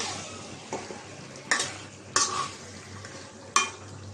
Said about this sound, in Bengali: একটু কষানো হোক